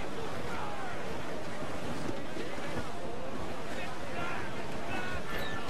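Wind and surf roar steadily around a sailing ship at sea, a dense, constant wash of noise with gusting wind buffeting under a voice shouting orders.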